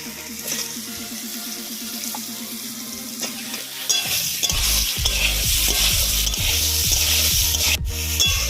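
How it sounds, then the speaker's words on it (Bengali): Peeled pointed gourd rubbed with turmeric and salt fries in oil, first a rhythmic scraping of a spatula against the pan, then a louder, denser sizzle with repeated stirring strokes, close and without talk. "মাছ ভাজা হয়ে গেছে, এবার আমি পটলটা ভেজে নেব।"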